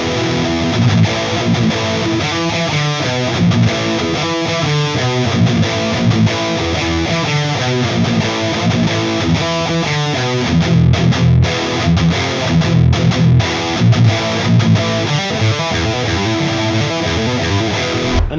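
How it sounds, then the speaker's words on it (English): Jackson JS32T electric guitar played through a distorted ENGL amplifier, saturated riffs with a crunchy top end and punchy low end, chugging palm-muted chords and sustained notes, loud and continuous. "if you are playing an ENGL amplifier, you have to hear the saturated crash in top end with the punchy low end"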